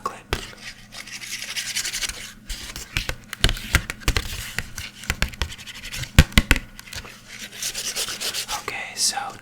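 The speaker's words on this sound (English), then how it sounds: "I'm gonna rub this vanilla syrup bottle with the chocolate." Chocolate is rubbed against a vanilla syrup bottle, giving close, dense scratching and rubbing strokes with sharp taps scattered through them, loud and continuous. Nobody talks.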